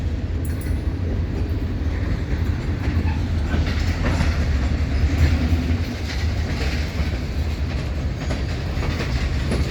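A long Wheeling & Lake Erie freight train with hoppers, hauled by EMD locomotives, rumbles steadily past nearby on jointed rail, with continuous wheel clatter and rolling noise throughout.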